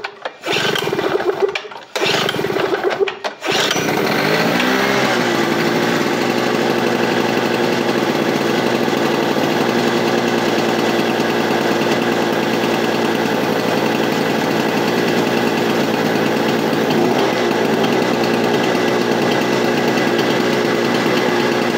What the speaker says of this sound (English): Here, I'll do a startup of it. And let y'all listen to it.